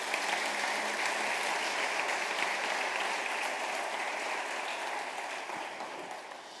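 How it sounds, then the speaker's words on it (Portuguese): A church congregation claps together in steady, dense applause that fills the room and holds evenly throughout, easing slightly toward the end, with no voices over it. "Dê um aplauso a Ele, você está me entendendo."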